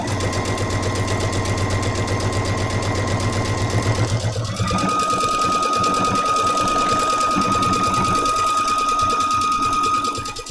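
Sewing machine running steadily through a quilt seam, a continuous close motor whir with rapid needle chatter that shifts pitch midway and winds down at the end, with no talk.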